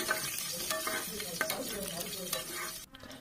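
Cinnamon, bay leaf and four dried red chilies being fried for biryani-style dal rice sizzle quietly in a pan, with a spoon stirring and scraping in soft, irregular strokes.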